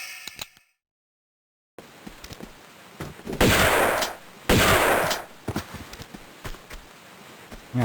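Shotgun blasts in Tomb Raider 2 Remastered, with two loud broadband booms standing out among scattered smaller impacts and footstep-like taps, separated by quieter stretches after a brief silence near the start.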